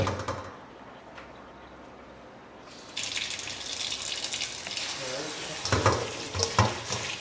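Fresh ackee is washed in a sink under running tap water, a soft hiss that swells into louder splashing and sloshing as the fruit is stirred about, close to the microphone with no speech.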